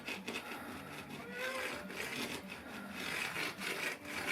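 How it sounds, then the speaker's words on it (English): N scale model railroad ballast is rubbed between the rails with a ballast spreader, making a close, continuous gritty scraping that rises and falls as the tool moves back and forth, with no voices. "Actually seems to work pretty good to just rub the ballast in between the rails there"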